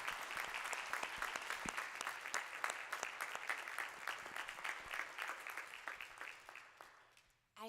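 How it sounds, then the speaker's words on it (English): An audience applauds a panel at a discussion event on housing instability and schools: dense, sustained clapping from many hands at steady volume, tapering off near the end with a brief sound at the close. "give a round of applause to our absolutely delightful panel here"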